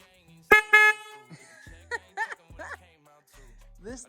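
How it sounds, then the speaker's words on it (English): A pit bike horn honks in short, loud bursts, two close blasts followed by a few shorter toots, with someone talking between them. "This thing's loud, obnoxious."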